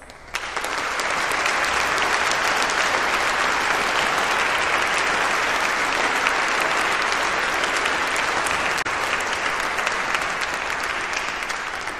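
A commencement audience at Longy breaks into sustained applause welcoming a speaker, dense steady clapping from a large crowd that continues at full strength throughout.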